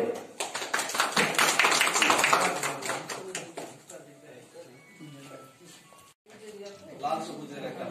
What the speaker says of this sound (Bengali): আমরা জোরে করতালি দিই যারা আমরা আছে।